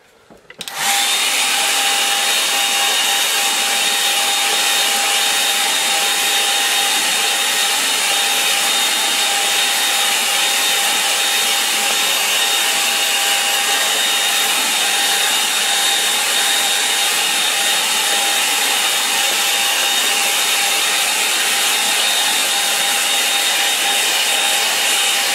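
A hair dryer blows steadily on sopping-wet watercolor paper painted with a lake and mountains. The constant, loud whooshing hum with a whine runs alone for the whole stretch.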